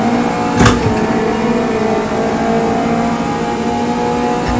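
A car's engine holds a steady, loud drone at high revs while being driven flat out around a fast lap, with a brief sharp burst early on and no talking.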